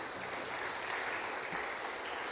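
Church congregation applauding for the Lord during a sermon, an even wash of clapping that stays faint and distant, with no speech heard over it.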